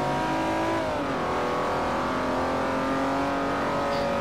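A Ferrari 250 GTO race car in Forza 4 on the Nürburgring Nordschleife, its engine droning loud and steady as another car pushes past on the left, the pitch sliding down then holding level.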